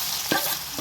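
Curry leaves, ginger and garlic hit hot oil with a brief burst of sizzling and a stirring scrape, then a steady low crackle continues underneath.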